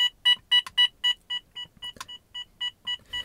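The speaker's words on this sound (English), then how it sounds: "And it'll beep, of course, to let you know how loud the volume level that you've set it to is." A Valentine One Gen2 radar detector gives a series of about a dozen short, clear electronic beeps at a steady rhythm as its volume is stepped, close and alone with no talk.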